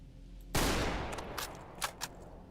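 Gunfire in the video game Stalker Anomaly, with a loud burst of shots opening sharply, followed by a decaying rumble and several scattered distant shots crackling afterward.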